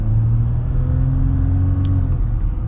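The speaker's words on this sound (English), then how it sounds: "This is like our partial acceleration." A 2021 Jeep Gladiator EcoDiesel pulls away under partial acceleration, its diesel engine giving a loud, close, low rumbling drone that rises slightly in pitch and holds steady from inside the cab.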